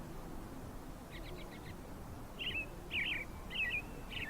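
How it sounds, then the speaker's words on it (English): Several short bird chirps ring out in bursts, a quick cluster followed by three or four brighter calls, moderately close over a steady low background hum in a warm room. "Birds."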